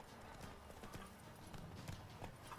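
Horse hooves clop in a quick steady rhythm under a busy, noisy background in The Witcher video game.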